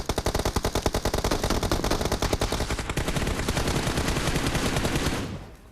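Rapid automatic gunfire from the PUBG Mobile game, loud and close, with dense bursts of shots running almost continuously before cutting off abruptly near the end.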